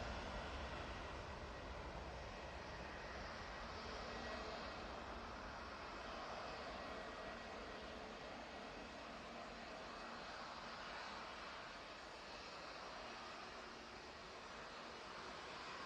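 An airliner departing Manchester Airport for Alicante, a faint, distant, steady broadband jet roar that stays even throughout with no talk.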